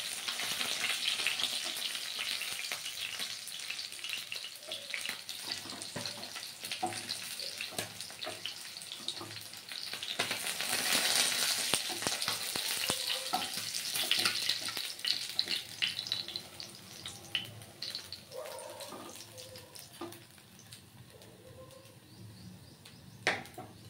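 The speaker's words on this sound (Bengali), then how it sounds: "এই মাছগুলো ভাজা হয়ে গেছে, এখন এগুলোকেও নামিয়ে দেবো" Bhola fish frying in hot oil in a home kitchen, giving a steady broadband sizzle that swells and fades over about twenty-four seconds, with a few clinks and taps near the end and no talk.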